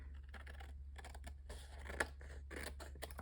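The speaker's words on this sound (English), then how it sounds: "I'm going to use my scissors." Scissors snip through cardstock being trimmed for a birthday card, a series of close, crisp cuts and rustles against a steady low hum, with no talking.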